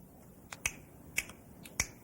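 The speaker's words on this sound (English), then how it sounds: "You can snap your fingers and make a noise." A few sharp, dry finger snaps, three distinct clicks with smaller ones between, crisp and close in an otherwise quiet room.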